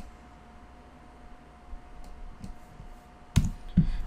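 Computer keyboard clicks sound faintly in a quiet room during software work, with scattered soft key taps and two sharper, louder clicks near the end.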